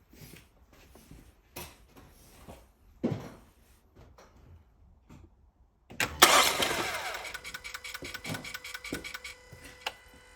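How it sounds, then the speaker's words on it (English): Quiet clicks and knocks, then a car engine cranks and catches during a drive belt change, rattling into a rough idle that continues. "I'll just crank the engine a little bit."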